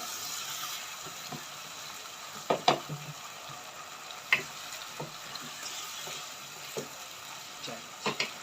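Daal mash fries quietly in a pan while a spoon stirs it, giving a soft steady sizzle broken by scattered faint scrapes and clicks, close up with no talking.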